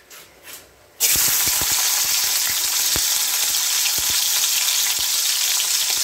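Chopped garlic hits hot oil and starts a loud, dense, continuous sizzle that sets in abruptly and holds steady, with occasional soft clicks of stirring and no speech.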